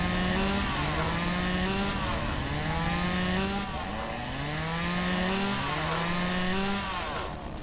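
Chainsaw in a Lumberjack's Dynasty lumberjack game: an engine drone rising and falling in repeated revving sweeps while cutting trees, steady and fairly close, with no talk.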